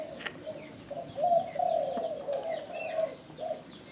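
Spotted dove cooing in a series of soft, low, mellow coos, close and clear, with a brief pause midway and faint chirps in the background.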